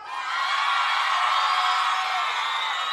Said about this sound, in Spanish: aplausos para Juan.